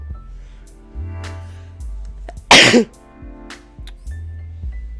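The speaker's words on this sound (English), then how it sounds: "Sorry, I sneezed." A single sharp sneeze bursts out close and loud from a streamer amid a low hum and soft background sounds.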